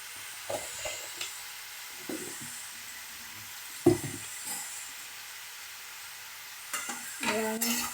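Vegetables with salt being stirred and fried in a pan for a poppy-seed dish: sparse spatula scrapes and knocks over a faint, low sizzle, with a busier clatter of stirring near the end.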